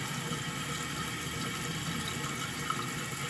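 Water rushes steadily into a toilet tank through a newly replaced fill valve, a constant close hiss and gurgle running unbroken throughout.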